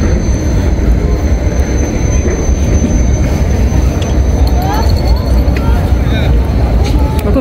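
A tram rolls along a Berlin street, heard as a continuous loud rumble of wheels on rails with faint squeals, under steady street noise throughout.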